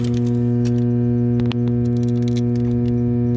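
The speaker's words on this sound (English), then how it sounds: "once we go inside, the humming gets quite a bit louder" A power transformer hums behind an acoustic barrier panel: a loud, steady, unbroken electrical drone that fills the whole stretch, with a few faint clicks and a light jangle over it.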